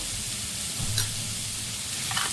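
Soybeans with salt being stirred in a pan for a Konkani-style soybean salad, a soft sizzle and scraping stir under low steady kitchen noise, with a brief clink near the end.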